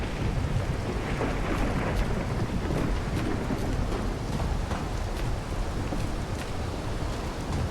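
Steady heavy rain with low rumbling thunder in the video game Project Silverfish, a continuous dense roar without any voices.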